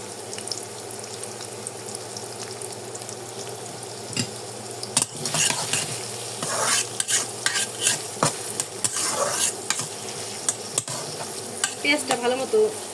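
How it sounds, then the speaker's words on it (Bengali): Sliced onions and green chilies with cardamom and cinnamon sizzle steadily in hot oil in a pan, a constant frying hiss with sharp scraping stir strokes breaking in during the second half, close and without talk. "পেঁয়াজটা ভালো মতো ভেজে নেব।"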